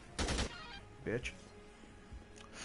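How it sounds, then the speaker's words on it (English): Light machine gun fire in the video game Dead Rising 2, a short burst of shots followed by a few quieter reports, with someone talking over the game sounds. "Sniped with an LMG."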